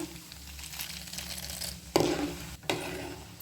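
Asafoetida and dried red chillies tempering in hot oil for a yam and Malabar spinach curry, a soft continuous sizzle with a couple of sharper scrapes and clatters of a spoon against the pan.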